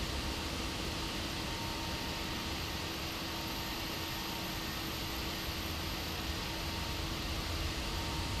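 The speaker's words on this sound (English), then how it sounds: "I can hear the APU in the cockpit." Steady, even whine and hiss of an Airbus A320 auxiliary power unit running, heard from inside the cockpit in a flight simulator, constant and unbroken throughout with no voices.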